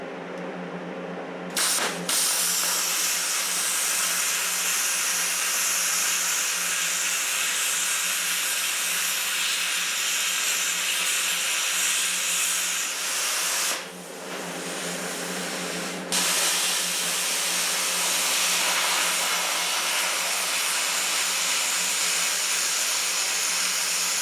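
An Everlast welder runs a continuous bead on 1/4 inch thick aluminum angle iron, a steady loud hiss with a brief drop in the middle before the arc resumes.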